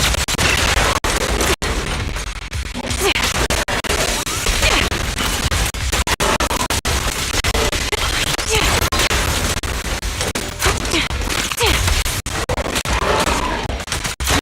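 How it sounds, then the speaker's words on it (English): Dense, continuous gunfire in the video game Zenless Zone Zero, loud and layered with crashes, impacts and music for the whole stretch, leaving no quiet gaps. "Quick shot."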